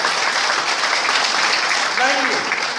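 An audience at a philosophy lecture applauds loudly and continuously, a broad wash of many hands clapping, while a voice briefly cuts in near the end.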